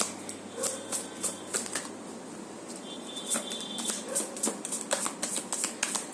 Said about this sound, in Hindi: इतने बार मैं शफल कर रही हूँ